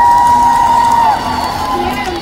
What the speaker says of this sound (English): let's give her a round of applause so that she can begin